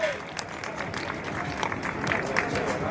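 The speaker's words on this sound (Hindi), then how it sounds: "तालियां होनी चाहिए, एनर्जी नहीं नजर आ रही।" Crowd at a live wrestling show applauding and cheering steadily throughout, a dense wash of clapping with a few louder swells and faint voices mixed in.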